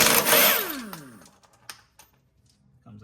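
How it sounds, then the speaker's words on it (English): Impact wrench fitted with a 3/4 inch socket bursts loudly against a sway bar link bolt on a 2019+ Ram Rebel with air suspension, a short dense rattling whir that winds down, followed by faint clicks and quiet shop noise. "I'm gonna be using a 3/4 inch socket down here on the impact"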